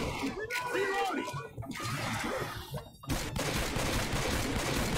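Desert Eagle pistol shots in Left 4 Dead 2, part of a pistol challenge, crack out amid a busy clatter of gunfire and smashing combat noise, with a player talking over it.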